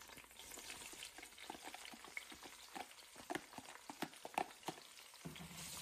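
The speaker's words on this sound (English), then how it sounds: "we're going to put in the sliced whites of 1 leek, as well as about half a cup of onion over medium heat" Sliced leek whites and onion cook over medium heat in a Dutch oven, a soft low sizzle broken by scattered crackles and sharp spatula taps, with no voices.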